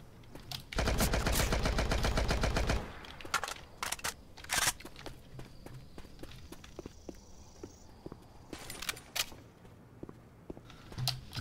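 An AK-47 fires a sustained automatic burst in a Left 4 Dead 2 Roblox mod, rapid and loud for about two seconds, followed by scattered single clicks, footsteps and shots at lower level.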